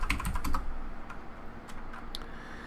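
Keys clatter on a computer keyboard at an N8VEM single-board computer running CP/M, a quick burst of several close keystrokes followed by a few sparser, fainter taps.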